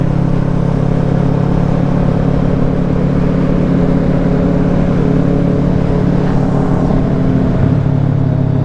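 Loud, close drone of a Yamaha FZ motorcycle engine running steadily throughout, a dense continuous rumble with no voices over it.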